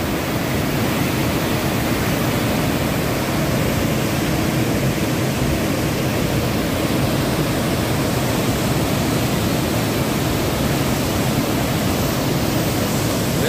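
Strong river current of rushing water, a loud, steady, dense roar that holds without pause throughout, close by and with no voices.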